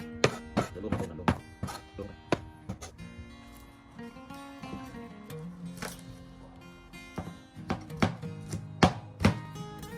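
Onions chopped with a knife on a board, sharp irregular thunks coming in quick bursts with pauses between, close and clear, with soft talk in the background.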